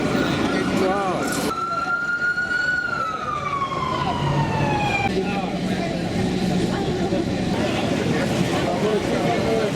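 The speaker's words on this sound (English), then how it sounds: "You've even got sirens going, Chris." An emergency vehicle siren wails with a descending sweep over steady New York City street noise and traffic, fairly distant, fading after several seconds.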